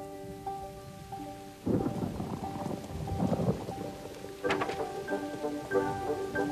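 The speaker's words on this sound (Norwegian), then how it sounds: "Godt med litt regn." Light rain falling outdoors, a soft steady patter mixed with gentle music tones and a few brief louder rustling splashes.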